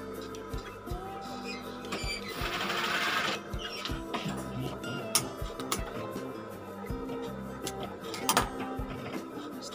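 Sewing machine stitching the lining of a men's suit jacket with a jaguar-type lining fabric, running in a steady mechanical whir with a louder burst early on, ticking pauses and short clicks, fairly close.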